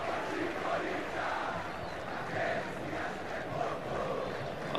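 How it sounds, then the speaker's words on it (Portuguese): A large stadium crowd in a FIFA 14 football match gives a continuous roar of cheering and chanting that swells and fades slightly. It sounds dense and broad, with no distinct voices standing out. "Torcida."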